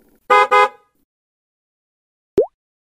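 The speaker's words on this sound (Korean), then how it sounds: "자동차 소리예요." A car horn gives two short, loud honks in quick succession. After a pause comes a brief rising chirp.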